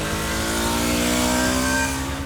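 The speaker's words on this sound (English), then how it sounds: "The Pulsar's motor also produces a raspy and angry exhaust note at higher revs." A Bajaj Pulsar RS 200 motorcycle revving at high engine speed, its raspy, angry exhaust note held as a steady, loud, close buzzing drone.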